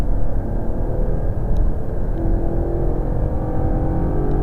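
An Audi R8 accelerating hard on a race track during a driving course, its engine a loud, close, sustained roar that holds steady throughout with no talking.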